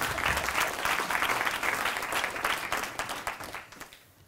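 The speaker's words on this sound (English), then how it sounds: "A more resounding applause for Professor Marwala." An audience at a University of Johannesburg event breaks into dense applause for a professor, the clapping holding strong and then thinning and fading out toward the end.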